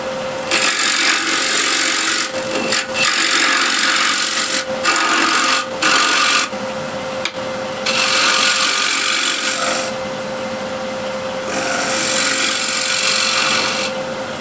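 A wooden bowl turns on a lathe while a bowl gouge and then a scraper work its surface, giving a steady rough scraping and cutting hiss in long strokes with short pauses, close and fairly loud, with no talk.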